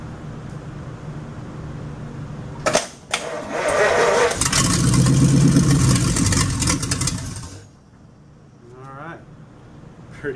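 A small engine on a carburetor primed with fuel cranks with a couple of sharp clunks, then catches and runs loudly and roughly for several seconds before dying down. Faint voices follow.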